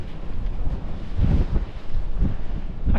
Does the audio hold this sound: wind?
yes